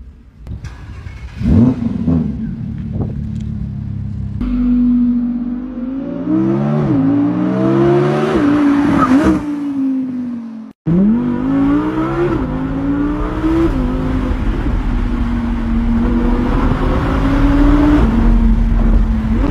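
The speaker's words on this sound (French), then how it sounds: "La Ford GT, elle est absolument incroyable." A Ford GT sports car on a street in Monaco starts up and revs hard, loud and near, its engine pitch climbing and falling through repeated throttle blips, then settling into a steady growl after a brief cut.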